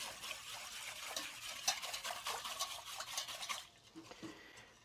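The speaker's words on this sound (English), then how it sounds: "you want to stir this up, whisk it up, until the salt and brown sugar are dissolved" A whisk stirs a brine of brown sugar and kosher salt in a bowl, quick light scraping and swishing strokes for several seconds that fade into near quiet at the end.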